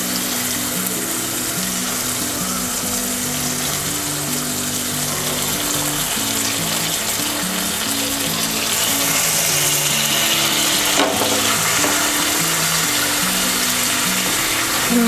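Basa fish pieces go into sizzling masala in a pan, a loud steady hiss of frying that swells slightly partway through, with a low rhythmic hum running underneath.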